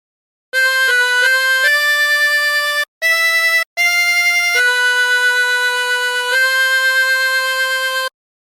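A chromatic harmonica plays a short melody of reedy sustained notes from the hymn How Great Thou Art, mostly long held tones with a couple of brief breaks, close and loud with no speech.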